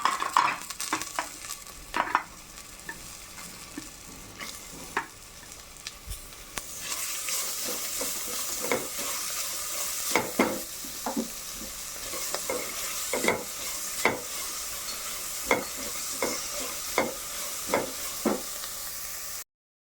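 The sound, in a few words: onion and green chillies sautéing in pan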